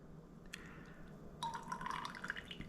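Brewed coffee drips through a filter, a soft tick near the start and then a quick run of close, faint trickling drops.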